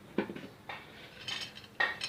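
A spoon stirs sugar into freshly brewed tea for iced tea, giving a few light clinks and scrapes against the container in short irregular bursts, close and fairly quiet.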